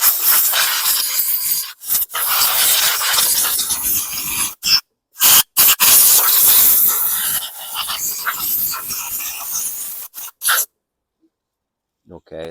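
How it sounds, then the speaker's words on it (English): Loud bursts of compressed air hiss in repeated blasts with short pauses between, close to the microphone, cleaning a 2016 Yard Machines lawn mower carburetor area. "I'm going to just blast up here a little bit with the compressed air"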